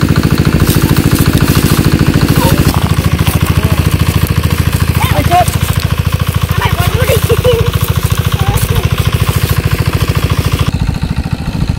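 An engine-driven pump chugs with a steady, rapid pulsing beat as it drains a village fish pond. The running is loud, close and continuous, with people talking over it.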